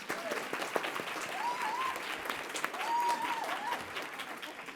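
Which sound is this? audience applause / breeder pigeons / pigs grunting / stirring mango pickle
audience applause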